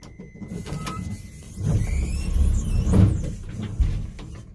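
A Williams hydraulic elevator with padded walls in an office building at 400 South Oyster Bay Road, Plainview, NY, its doors sliding and thudding with soft mechanical rumbles and clunks, close and without talk.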